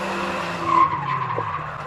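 A race car skids during arena racing at Standlake, giving a loud, sustained tyre-scrubbing squeal over engine noise that peaks briefly in the middle before fading slightly.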